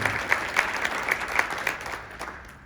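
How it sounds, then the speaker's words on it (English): Audience applause for the speakers at a Hope for Children Foundation event, a steady patter of clapping from a mid-sized crowd in a room, fading slightly toward the end with no voices over it. "How about a round of applause for all our speakers today"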